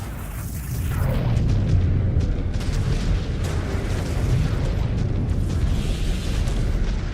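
Missile explosions in MechWarrior 5: Clans, a dense, sustained rumble of heavy booms and bursts rolling on without pause, loud and continuous throughout.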